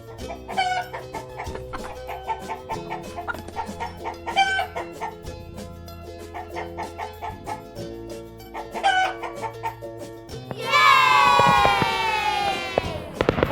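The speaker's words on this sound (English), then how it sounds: "hen माने मुर्गी" Hen clucking in a farmyard comes in repeated short bursts over light background music, with a loud, drawn-out rooster crow breaking in near the end.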